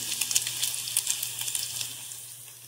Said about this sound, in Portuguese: Aqui estou fritando um frango.